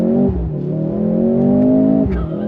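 A 2023 Mercedes-AMG C43 sedan accelerates hard on full throttle, its loud, close engine note climbing steadily with a brief dip near the end as it shifts, then pulling again; no one speaks.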